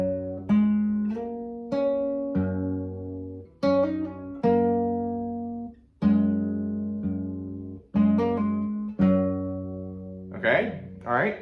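Acoustic guitar with a capo plucking the opening line of a song, clear single notes and small chords ringing out one after another at a slow, deliberate pace, played alone.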